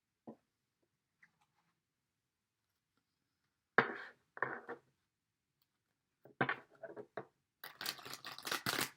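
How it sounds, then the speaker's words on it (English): Tarot cards are shuffled in several quiet bursts: a couple of short riffles midway, then a longer run of rapid riffling near the end, against near silence. "One more shuffle."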